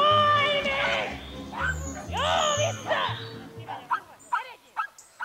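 Pumi dogs herding sheep bark and yip in quick bursts, with a few whimpering calls, loud and close, while a person talks over the first half.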